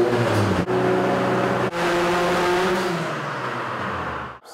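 A turbocharged Ecotec 2.2-liter engine running hard on a dyno, a loud, sustained roar with two brief dips before it winds down at the end.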